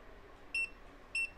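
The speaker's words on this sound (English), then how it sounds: "And then it should beep again." An electronic device gives two short, clear high-pitched beeps, evenly spaced about half a second apart, during a calibration step, over a quiet background.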